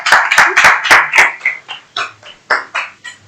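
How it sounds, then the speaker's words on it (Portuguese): Hand clapping in a studio, a quick run of sharp, close claps that slows and thins into a few scattered claps. "Eu gostaria até de pedir uma salva de palmas aqui no estúdio pra essa frase."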